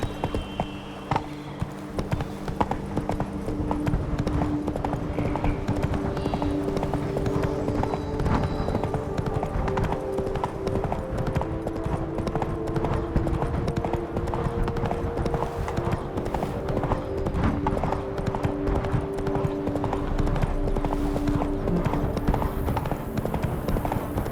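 Roach the horse gallops in The Witcher 3, a steady rapid clip-clop of hooves running close and continuous, with a brief whinny and faint ambient game sounds underneath.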